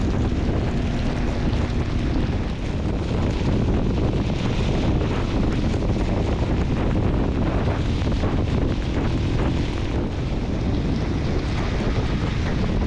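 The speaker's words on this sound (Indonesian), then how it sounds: "hujannya mendadak menjadi lebat lagi" Heavy rain and strong wind beat on the rider during a stormy motorcycle touring ride on a Fort 250, a constant loud roar of wind buffeting and rain with no pauses and no talk.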